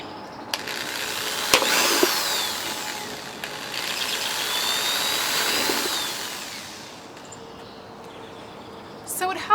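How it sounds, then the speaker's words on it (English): A power drill bores holes into the perimeter of a plastic container for a sub-irrigation planter, two sustained high whirring bursts with clicks between, close and moderately loud. "you can just save a little bit of time and drill holes all around it"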